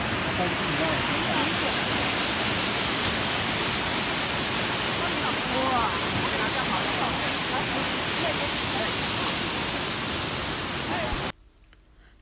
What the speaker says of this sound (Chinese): 挂在山间的瀑布美呀。